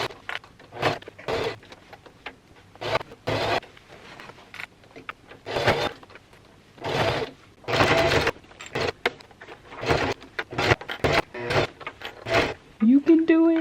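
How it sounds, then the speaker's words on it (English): A sewing machine topstitches pleats on thrifted blanket fabric in short, loud whirring bursts separated by pauses, with someone talking in between and over the stitching. "I'm gonna top stitch this down first to hold the pleats in place"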